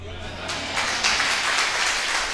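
An audience claps at a church gathering: dense, continuous applause that swells slightly and holds steady for a couple of seconds.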